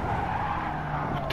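A race car in Gran Turismo 7 understeers into a corner, its tires screeching in a loud, sustained skid that holds for about a second over engine noise.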